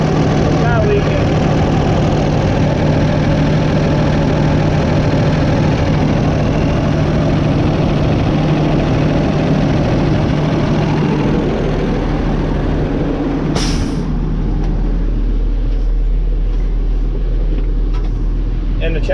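A truck engine idles steadily and loudly up close, a smooth continuous drone running alone with no fault smoke or leaks, holding an even note throughout.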